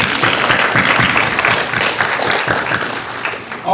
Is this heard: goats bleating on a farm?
no